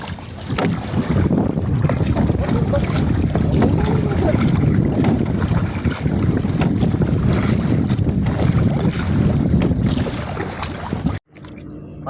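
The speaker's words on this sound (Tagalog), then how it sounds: "Sasaguan lang dahil walang makina yung bangka." A small engineless fishing boat paddled by hand on open water off Santa Elena, with steady broadband rush of water and strong wind buffeting the microphone throughout, ending in a brief dropout.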